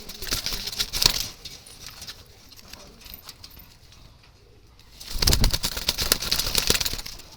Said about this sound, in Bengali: টপ কোয়ালিটি কবুতর এগুলো